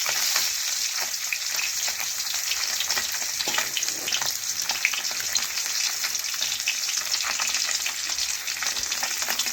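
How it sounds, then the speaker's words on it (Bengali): Koi fish fry in hot oil, browned on both sides, giving a steady, dense sizzle with soft crackles that runs unbroken and close throughout. "এর দুপাশে আমি ভালোভাবে লাল লাল করে ভেজে নিয়েছি।"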